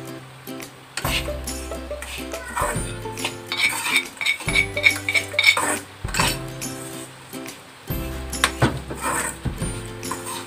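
A spoon clinks and scrapes against a pan while turmeric and coriander powder are stirred in for a roasted-coconut chicken curry, with repeated metallic taps over steady background music.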